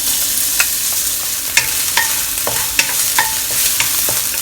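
Minced young ginger and garlic fry in a non-stick pan, a loud steady sizzle with scattered sharp spatula scrapes and taps as the aromatics are stirred, no voices.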